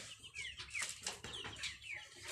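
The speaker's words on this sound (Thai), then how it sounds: "ไปดูไก่ตัวใหญ่ นี่นะคะ อันนี้ไก่ที่มันมีไข่ แล้วก็ฟัก" Chickens in a coop, including large egg-laying hens, cluck and squawk repeatedly at close range, with some wing flapping between the calls.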